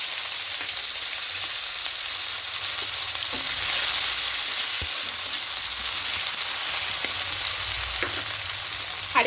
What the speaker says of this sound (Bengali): এবার এই কড়াইয়ের মধ্যে পেঁয়াজ কুচি দেবো